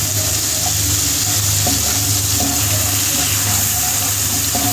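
Prawns seasoned with turmeric and salt sizzle steadily in a hot pan while being stirred, a dense continuous frying hiss with faint scraping and an underlying hum, close and fairly loud with no talk.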